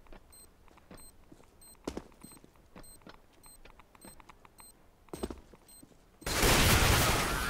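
An AWP sniper rifle fires in a professional Counter-Strike esports match, a sudden loud blast near the end after quiet in-game footsteps and small clicks.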